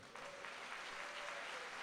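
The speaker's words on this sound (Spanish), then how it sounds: "Dele un aplauso al Señor." Congregation clapping together inside a Spanish-language church service, a steady dense patter of many hands filling the room for nearly two seconds, with a faint sustained tone running beneath.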